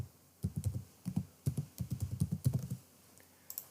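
Fingers tap quickly on a computer keyboard in short bursts of light, crisp keystrokes during spreadsheet work. The typing sounds close and fairly quiet, with brief pauses between groups of keys and no voices.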